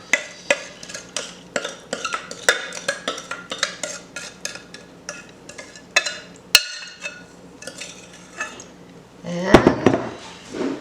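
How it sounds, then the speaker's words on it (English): A spoon scrapes and clacks rhythmically against a bowl while wet ingredients are stirred into a dry homemade granola mix, a steady run of sharp close clinks followed by a louder rustling, scraping stir near the end. "I'm just going to mix the wet into the dry"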